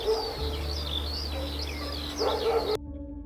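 Countryside animal sounds: a dog barks repeatedly and birds chirp in the background over a low steady hum, ending in an abrupt cut.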